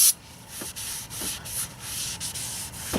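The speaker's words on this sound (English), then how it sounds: "clean off the rotor" A cloth wipes clean a brake rotor on a BMW X3 E83 during a pad and rotor replacement, making a series of close, rhythmic rubbing strokes with no talk.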